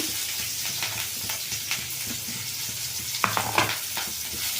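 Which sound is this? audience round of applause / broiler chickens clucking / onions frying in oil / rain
onions frying in oil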